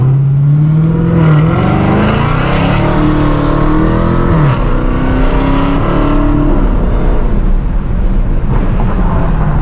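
A 2020 Dodge Challenger Hellcat Redeye Widebody launches and accelerates hard, its supercharged engine loud and close from inside the car, climbing in pitch through several gear shifts before settling into a steady roar.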